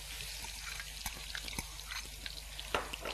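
Carrot puree stir-fried in a wok over ginger on a cooking show, with a wet sizzle, spatula scrapes and occasional metallic knocks, close, ending in a louder clatter.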